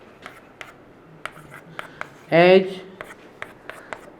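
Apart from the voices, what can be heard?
writing on a board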